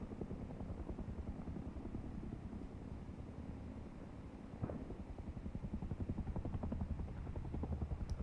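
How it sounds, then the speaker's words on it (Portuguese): A helicopter's rotor chops steadily in the distance in the video game Rust, a low rhythmic thumping with faint wind noise, no voices. "Nossa, tem barulho de helicóptero."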